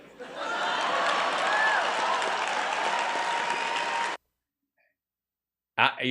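A comedy show audience bursts into loud, dense applause and cheering for about four seconds. It cuts off to silence, and then a voice starts speaking.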